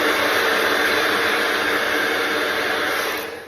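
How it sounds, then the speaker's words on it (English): Blow dryer drying hair, a loud steady whooshing hiss close by that runs unbroken and tapers slightly at the end, with no talking. "using your blow dryer to get some of that frizz down"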